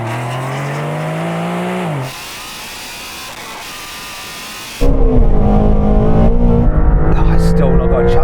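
A Porsche 911 and a Shelby GT350 Mustang launch in a drag race on a damp surface: engines roar loudly as one car revs up through a gear change, then a louder, harsher surge of acceleration takes over, with brief talk over the noise.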